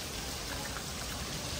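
Light rain falling steadily during a sudden daytime darkening, a soft continuous hiss of drops with no distinct voices or other sounds.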